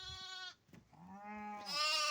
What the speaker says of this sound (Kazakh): Қазір қозыларды көрсетемін.